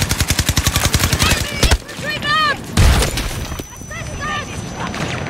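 Gunfire in the video game Battlefield 2042 during a Conquest match: a rapid burst of machine-gun shots opens, then sporadic heavy bangs mix with in-game radio voices and whistling effects, loud and close throughout.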